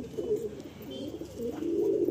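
Pigeons coo softly in a loft of old Madrasi pigeons, low continuous burbling calls that swell and overlap, fairly close, with a slightly louder run toward the end.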